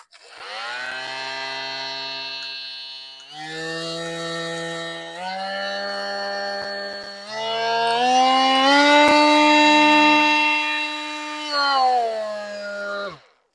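A Hercules 20V cordless oscillating multi-tool whines loudly at high speed, its pitch steady for stretches and shifting a few times before winding down to a stop.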